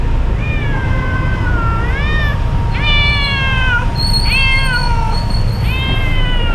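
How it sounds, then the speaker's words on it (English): A male cat with ants on him meows repeatedly outdoors in BGC, Philippines: about five drawn-out, rising-and-falling cries, close and clear over a steady low background hum. "Why are you meowing so much?"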